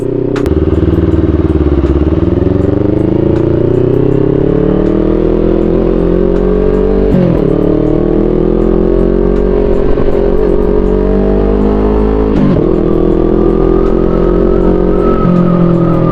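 A KTM motorcycle engine on a test ride drones loudly and close, its pitch rising and falling with throttle and gear changes across the whole stretch.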